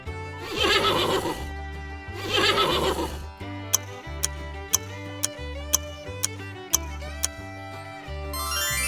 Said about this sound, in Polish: to koń